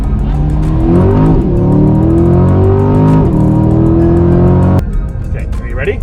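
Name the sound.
Chevrolet C8 Corvette accelerating fast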